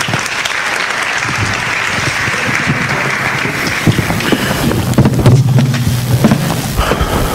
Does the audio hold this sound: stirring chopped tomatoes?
no